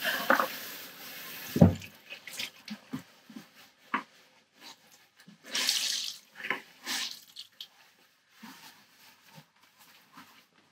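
Water runs at a sink while something is rinsed, with intermittent splashes and gushes, a strong burst early on and scattered quieter trickles and drips afterward, fairly close.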